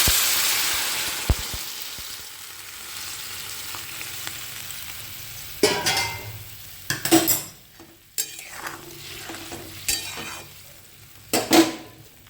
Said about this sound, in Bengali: এর মধ্যে দিয়ে দিচ্ছি গরম জল